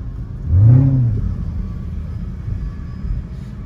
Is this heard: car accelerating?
yes